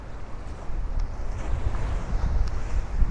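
Strong gusting wind buffets a microphone while someone walks outdoors along a Brooklyn bike path in heavy fog, a loud continuous roar of low rumble and hiss.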